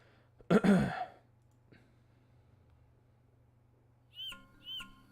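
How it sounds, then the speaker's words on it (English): Calls of a superb bird of paradise in a nature documentary: one harsh, rasping burst, then quiet with a low hum, then two short, sharp, whistled notes, fairly faint. "Is this a new species of bird of paradise?"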